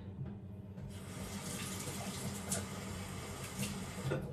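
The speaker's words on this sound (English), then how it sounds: "Get my hands a wee washed." A kitchen tap runs steadily while hands are washed at the sink, a continuous close rush of water with small splashing shifts throughout and no talking.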